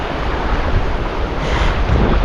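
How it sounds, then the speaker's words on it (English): Ocean waves rolling in at Pass-A-Grille beach in St Pete, Florida, a constant loud wash of surf with heavy wind buffeting the microphone. "Got the shadows of the waves rolling in ahead of the wave."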